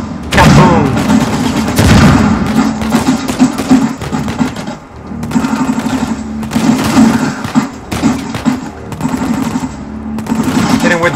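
Rapid AK rifle gunfire in the video game Uncharted 4, loud dense bursts with brief pauses, close and continuous across the scene with game sounds mixed in.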